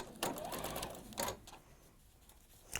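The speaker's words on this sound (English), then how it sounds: "I'm just sewing the 2 pairs together" Sewing machine joining two pairs of fabric pieces, short bursts of quick close stitching separated by pauses, with faint rustle between runs.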